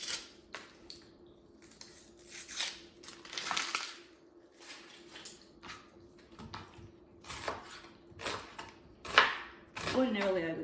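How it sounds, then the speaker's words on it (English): A kitchen knife chopping an onion on a cutting board, a series of quiet, irregular crunchy cuts and taps heard close up, with a person talking intermittently. "let me at least cut the onion"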